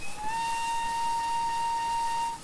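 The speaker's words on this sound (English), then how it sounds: "let's do a quick little whistle" A steady, clear steam whistle from an LBSCR E2 Class tank locomotive in Train Simulator 2017 sounds one sustained tone for over two seconds over a soft hiss, alone with no voices.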